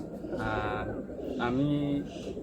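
Giribaz pigeons coo nearby in soft, throaty rolling calls, two or three phrases rising and falling, with a person speaking quietly in the background.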